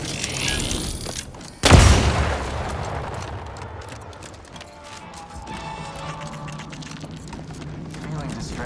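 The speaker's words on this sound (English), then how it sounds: "Grenade!" A grenade goes off in The Outer Worlds 2 with one sudden loud close blast, then the rumble trails away into quieter combat noise, and voices speak before and after it.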